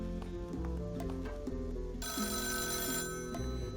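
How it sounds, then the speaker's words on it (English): A telephone rings in the video game Rogue State, a repeated electronic ring with a bright burst midway, heard alone over steady game music. "when you play this first turn, you'll get a phone call at the end of it, which I'm getting here"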